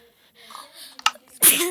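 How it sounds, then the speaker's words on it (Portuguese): A single sharp human sneeze bursts out near the end after a short intake of breath, close and loud. "Desculpa pelo espirro, galera."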